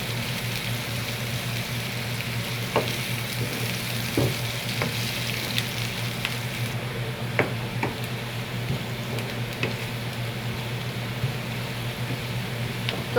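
Onions frying in oil for beresta in a pan, a continuous dense sizzle with a low steady hum beneath and occasional stirring scrapes and crackles throughout.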